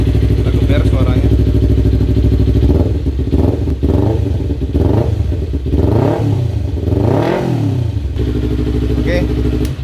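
Kawasaki Ninja 250FI fitted with a full-system Prospeed Viper exhaust, revved hard in repeated blips that swell and fall, a deep, mellow, bassy engine note close by and loud throughout.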